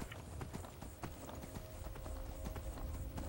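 Horse hooves clip-clopping on the ground in Skyrim, a steady run of hoofbeats close by over a busy game soundscape, with faint voice-like sounds mixed in.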